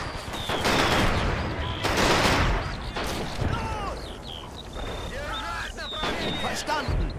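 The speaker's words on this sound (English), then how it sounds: "MG34 opening up." MG34 machine gun fire in the Men of War war game rattles in dense bursts mixed with other battlefield shots and explosions, continuous and loud across the clip.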